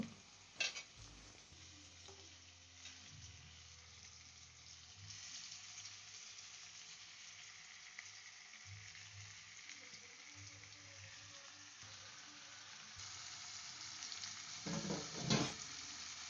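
Marinated chicken fries in a pan while a spoon stirs it, a steady soft sizzle with scraping and clinking, a louder stir near the end; no one talks.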